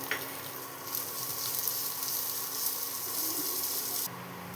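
Chicken 65 frying with green chilies in hot oil: a steady, close sizzle and crackle that holds continuously, then drops abruptly near the end, with no talking.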